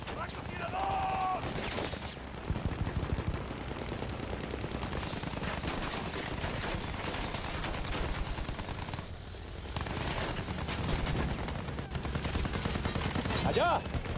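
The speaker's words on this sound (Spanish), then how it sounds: "¡Esa es una ametralladora del enemigo!" Enemy machine gun fire in Battlefield 1 rattles in dense, sustained bursts through most of the scene, with brief lulls, amid a busy wartime battlefield din and occasional shouted voices.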